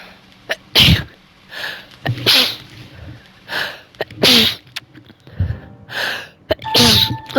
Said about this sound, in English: Oh, I got the sniffles. I got to sneeze.